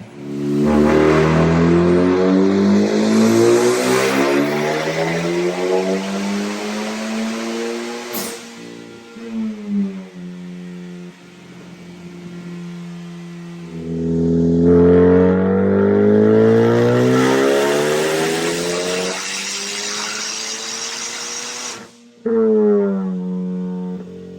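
A car strapped to a dyno for performance tuning revs hard through long wide-open pulls, loud rising engine roar climbing in pitch, cutting off abruptly, then building again with another short burst at the end.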